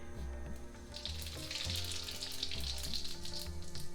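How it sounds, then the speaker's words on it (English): Cumin seeds hit hot oil in a karahi and crackle in a soft, continuous sizzle that swells slightly, heard up close but fairly quiet over a low steady hum, with no speech. "I've got 2 tablespoons of oil getting hot. So the first thing you do is you put the cumin seed."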